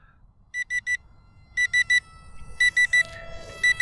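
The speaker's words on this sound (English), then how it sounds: "the transmitter is beeping at me now because the battery is running low" An RC plane transmitter sounds its low-battery warning: bright electronic beeps in quick groups of three, repeated several times, loud and close over a faint outdoor background.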